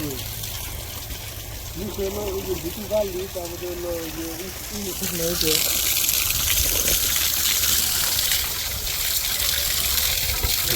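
Water gushes steadily as it is poured onto freshly planted cuttings in a home garden, growing louder partway through and continuing to the end, with people talking over the first half.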